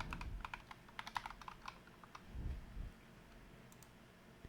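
Keys clatter on a computer keyboard as an EA ID is typed, a quick run of soft clicks followed by a brief low thump, then a few faint taps, recorded close and quiet.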